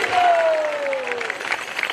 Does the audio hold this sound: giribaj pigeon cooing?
no